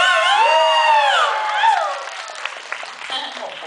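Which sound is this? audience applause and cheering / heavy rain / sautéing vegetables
audience applause and cheering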